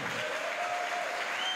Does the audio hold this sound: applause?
yes